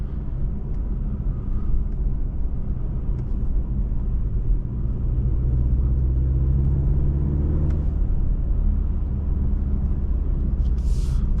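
Road rumble fills the cabin of a 2024 BMW 530i xDrive as it rolls over bumps: a steady low drone with soft muffled thumps from the suspension, calm and continuous, with no talking.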